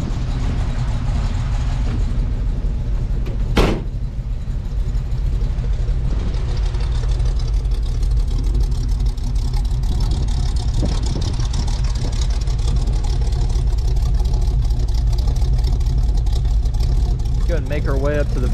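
A 1973 Ford Bronco's V8 exhaust idles with a deep, steady rumble, low and continuous throughout, with a brief sharp click near the start and a faint voice at times.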